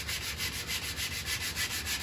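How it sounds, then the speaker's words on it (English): Hand sanding on a wooden picture frame, a close rhythmic scrubbing of quick back-and-forth strokes, steady and moderately quiet, with no voice. "I'm sanding it, I'm blending it out,"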